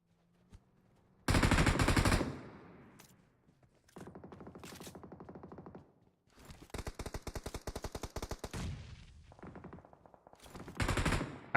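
Automatic and single gunfire from PUBG Mobile during a competitive battle royale scrimmage, loud bursts of rapid shots in several separate volleys with short quiet gaps between them.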